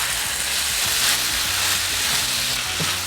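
Ground beef frying in a pan for breakfast burritos, giving a loud, steady sizzle and crackle close up, with occasional faint stirring scrapes beneath it and no talking.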